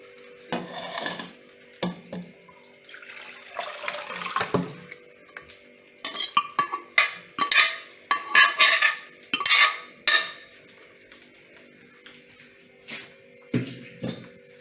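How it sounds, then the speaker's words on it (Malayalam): Cooked wheat with chicken and onion being moved into another dish, a spoon scraping and clinking against a metal pot in short close bursts with pauses between. "ഗോതമ്പ് വെന്തിട്ടുണ്ട് നമുക്കിനി വേറെ ഡിഷിലോട്ട് മാറ്റാം"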